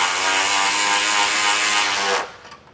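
A powered ratchet tightens mounting hardware for a Firestone Air Command Heavy Duty air compressor, giving one loud, close, continuous whirring burst of about two seconds that cuts off abruptly into quiet.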